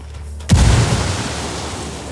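A frag grenade goes off in Ghost Recon Wildlands: one sudden deep boom after a quiet moment, then a long rumbling decay.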